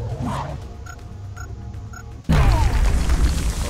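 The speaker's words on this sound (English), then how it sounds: "Okay, we're getting grenaded." A grenade explodes in the strategy video game XCOM Long War. Soft game ambience with a few faint beeps gives way to a sudden loud, booming blast that keeps rumbling to the end.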